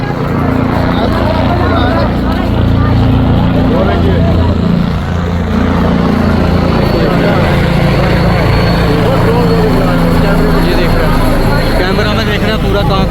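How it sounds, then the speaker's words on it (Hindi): A helicopter flies low over the huge pilgrim crowd at the Mahakumbh festival, its rotor and engine roaring loud and steady throughout, with crowd babble and voices underneath. "ये हेलीकॉप्टर देख रहे हैं क्या हो रहा है"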